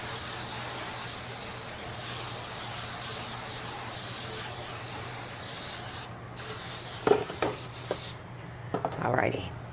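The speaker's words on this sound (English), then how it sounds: "make sure you spray your pan really well too before you put that in" Cooking spray hisses onto a baking pan in a home kitchen, a steady broad aerosol spray lasting several seconds, followed by a few clatters and handling sounds.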